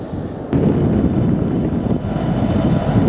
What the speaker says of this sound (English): So a little breezy, hope you can hear me.